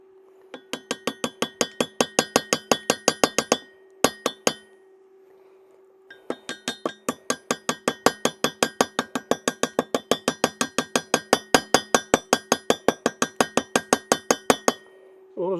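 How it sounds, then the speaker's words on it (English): Hammer striking metal to knock a slug out during a hot metalworking job, a long run of sharp ringing clinks at a steady fast rhythm, pausing briefly, then continuing, loud and close with no talk. "Also got better hammer for getting the slug out."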